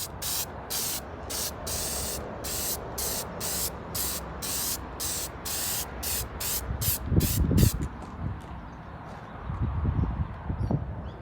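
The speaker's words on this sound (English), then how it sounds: "So I'm going to keep spraying." Short bursts from a spray can hiss rhythmically in quick succession while finishing parts of an antique radio, then stop, followed by a few handling knocks and rustles nearby.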